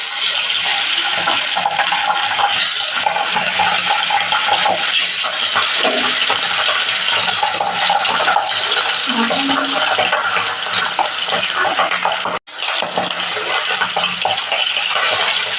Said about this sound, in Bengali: তেলটা গরম হয়ে গেছে, এবার মাছগুলো ছেড়ে দেবো।